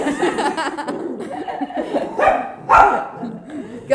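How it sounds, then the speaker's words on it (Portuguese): Dogs bark in short bursts in the background while people talk and laugh indoors, the barks partly masked by the voices. "Gente, tem cachorros aqui, tá?"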